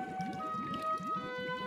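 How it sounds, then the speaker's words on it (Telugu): Whale calls from a children's cartoon about the deep ocean: a steady run of low, rising moans and groans that repeat one after another over a sustained tonal hum, with no talking. "పెద్ద పెద్ద వేల్స్"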